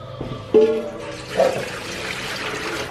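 Water runs and splashes while something is rinsed and washed by hand, a close, continuous rushing trickle with a couple of louder gushes at moderate volume.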